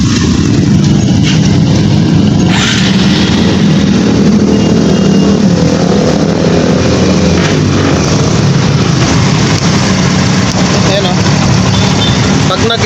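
A Kawasaki Barako 175 motorcycle engine runs loud and close in a steady, continuous drone throughout, with a voice speaking over it.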